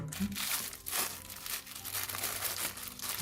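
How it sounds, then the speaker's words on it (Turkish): A plastic bag taken from a Xiaomi AirDots Pro earbuds box crinkles and rustles close up in repeated bursts of handling, steady and fairly quiet, with no talking over it. "Şöyle şuradan bir poşet gördüm."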